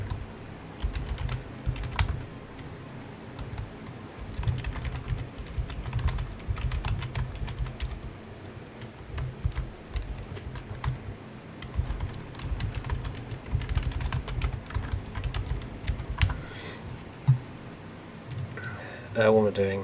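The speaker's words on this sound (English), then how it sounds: "Sorry for the loud clicking." Loud computer keyboard typing during a Minecraft stream, rapid irregular clacking bursts close to the mic that run throughout, with a person talking at times.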